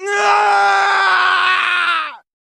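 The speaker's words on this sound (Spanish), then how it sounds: "escuchamos un grito." A long, loud, strained scream used as a sound effect in a spoken horror story themed on Among Us, sustained for about two seconds with a tense, rough tone before cutting off abruptly into silence.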